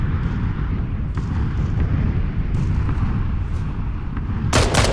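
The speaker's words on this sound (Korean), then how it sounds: "위에서도 쏜다." Gunfire in the battle royale video game PUBG Battlegrounds: dense, continuous booming shots fill the whole stretch, with a louder burst of crackling fire near the end.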